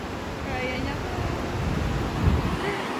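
Strong wind roars steadily over a river crossing in Kapangan, Benguet, a loud, continuous rush of broadband noise buffeting the microphone with a slight gust near the end.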